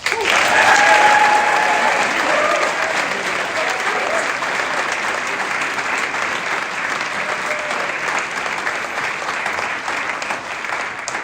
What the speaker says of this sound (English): one final round of applause for our new second lieutenants